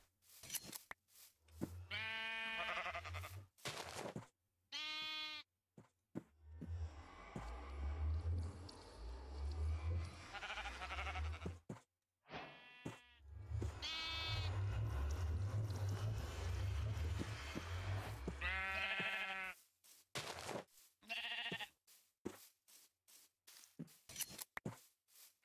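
Sheep bleating in Minecraft: several separate bleats come and go, some near and some farther, over stretches of rumbling background game noise, with gaps of near silence between them.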